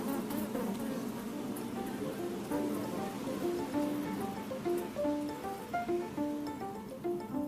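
Honeybees buzz densely around an electrified grid placed in a hive, a continuous close swarm hum with shifting pitched whines and light crackling patter throughout.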